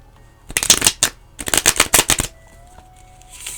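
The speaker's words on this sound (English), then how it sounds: "I'm gonna do an ASMR shuffle." Tarot cards shuffled close to the microphone in an ASMR style, two quick runs of crisp riffling flutters separated by a short gap, followed by quiet.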